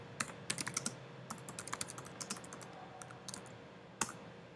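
Fingers typing on a computer keyboard while setting up Ruby on Rails: irregular bursts of quick, light key clicks with brief pauses and one firmer keystroke near the end, quiet and close.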